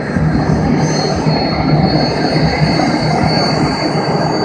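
A Lama helicopter with an engine of about 700 horsepower runs loudly and steadily at close range, a dense continuous whine and roar with no voices over it.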